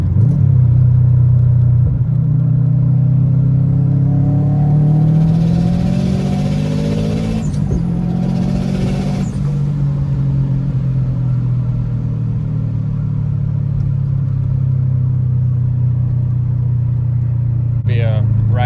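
A built Subaru WRX STI engine cruises steadily along a road, a loud continuous low drone whose pitch rises and falls gently with throttle, holding an even rumble throughout.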